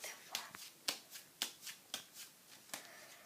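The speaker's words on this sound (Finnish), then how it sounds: "sekoitetaan vaikka pinoa aikaan" A deck of playing cards being shuffled by hand for a card trick, a series of crisp riffling bursts repeating roughly every half second, close and quiet with no talk.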